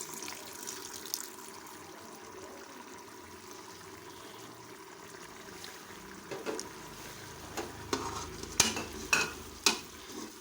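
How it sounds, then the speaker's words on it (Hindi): Jaggery rice being stirred with milk in a pot, quiet wet mixing with a few louder scraping knocks near the end. "दूध डाल के इनको अच्छी तरह से मिक्स कर दें"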